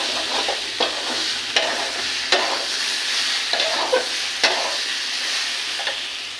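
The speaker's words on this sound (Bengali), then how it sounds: "মশলাটা ভাজা ভাজা হয়ে গেছে।" Spice masala frying in a pan, a continuous close sizzle with regular light scraping stir strokes every second or so, with no talking over it.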